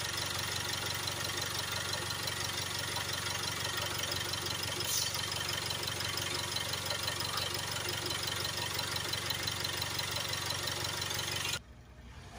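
Jaguar XE 2.0 diesel engine idling during an SCR cleaning, a steady low rumbling drone that holds constant for most of the clip before dropping abruptly near the end.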